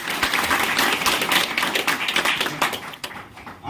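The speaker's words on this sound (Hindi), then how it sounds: "तो मेरी ओर से एक जोरदार ताली आप सभी के लिए" A large audience bursts into loud, sustained applause at a closing awards gathering, dense clapping holding steady throughout with no pauses.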